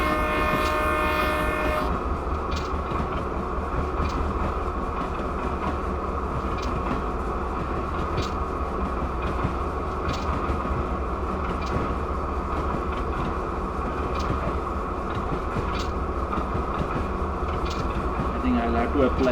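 A Norfolk Southern locomotive in Train Simulator rumbles steadily downhill toward Gold Hill Quarry with its brakes applied. A horn sounds briefly at the start over continuous low engine and rail noise.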